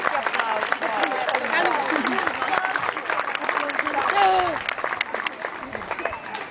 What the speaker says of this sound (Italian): Un applauso va sicuramente a questi ragazzi